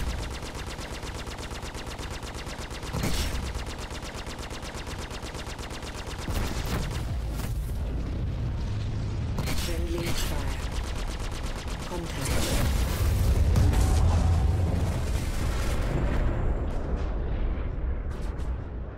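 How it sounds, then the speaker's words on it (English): Sustained rapid gunfire in the space combat game Star Citizen, dense rattling bursts and heavy booms building and swelling over a continuous rumble, with voices talking over it. "Sounds like someone shooting us from behind"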